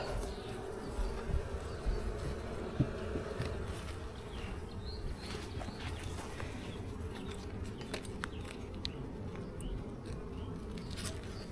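Honey bees buzzing at an open beehive, a dense continuous hum of many insects close by with faint rustling, steady and moderately quiet, no speech.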